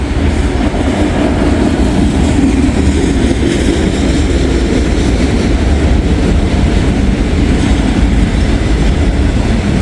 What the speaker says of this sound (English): Old auto rack trains, always nice and long.